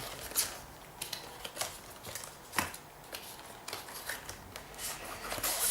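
Quiet, close crinkling and rustling as packaging tape is pulled and handled, with intermittent sharp scratchy bursts.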